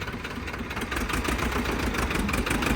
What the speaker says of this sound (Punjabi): DI ਇੰਜਨ ਵਾਲਾ ਟਰੈਕਟਰ ਹੈ ਜੀ ਇਹ